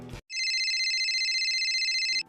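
An outgoing call rings on a mobile phone, a steady electronic ringback tone pulsing for about two seconds after a brief burst of noise, then cutting off abruptly.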